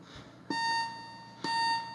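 Alarm from a metal detection program, two loud electronic tones, each starting abruptly and sustaining as a steady pitched beep, close and clear with no talk.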